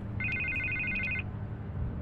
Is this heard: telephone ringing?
yes